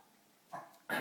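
A person imitates a dog with two short, quick woofs, the second louder and sharper, close up in a quiet room.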